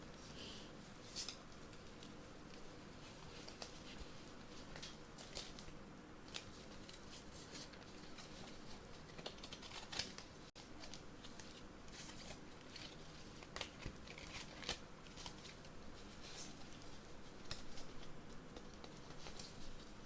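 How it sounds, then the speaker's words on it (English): Tarot cards shuffled softly and close in a quiet room, with a steady stream of light riffling, tapping and card-sliding ticks and no talking. "I need to make sure these are shuffled so I don't accidentally curse you."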